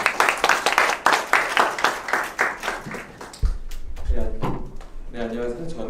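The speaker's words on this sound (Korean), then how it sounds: "박수 부탁드리겠습니다." Applause from the audience at a pet-startup demo day, a burst of loud, close clapping that fades out and gives way to a voice speaking over a short low thump.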